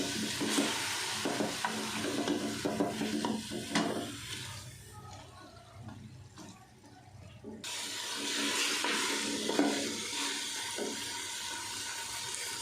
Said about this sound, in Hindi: दाल को हमने 1 से 2 मिनट फ्राई कर लिया।